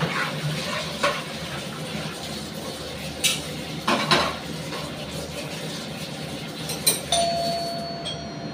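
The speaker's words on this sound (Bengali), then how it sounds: "বেল বাজছিল" In a home kitchen, a doorbell rings faintly a few times amid quiet clinks of pots and utensils, then a steady electronic tone lingers at the end.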